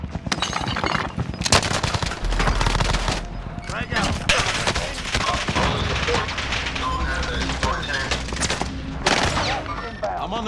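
Rapid automatic gunfire and single shots from a Fortnite match crackle loudly and almost continuously, with bursts rising and falling over about ten seconds while players talk over the action.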